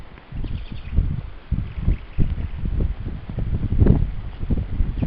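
Wind gusts outdoors on a breezy, partly cloudy day beside an empty track, buffeting the microphone in loud, low, uneven rumbles that rise and fall throughout.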